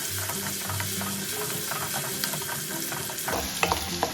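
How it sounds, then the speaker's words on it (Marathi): Ginger garlic paste roasts in a pan over cumin, a steady soft sizzle under occasional spoon scrapes and taps, close and fairly quiet, with no talking. "त्याच्यात आपण पाऊण चमचा आलं लसूण पेस्ट टाकू. पेस्ट आपण छान भाजून घेऊ."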